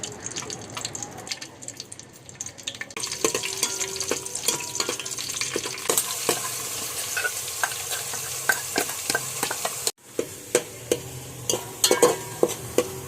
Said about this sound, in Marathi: तेल पत्ता हिरवी मिरची आणि थोडासा जिरा टाकलेला आणि जे आपण पिसून घेतला तो मसाला त्याच्यात टाकणार आता